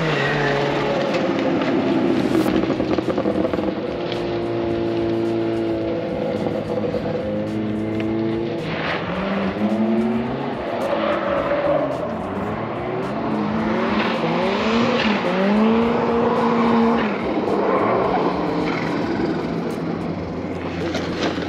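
Drift cars run laps at a private event at Englishtown, NJ, engines wailing and shifting pitch continuously as they rev, slide and pass, loud and sustained throughout with several cars overlapping.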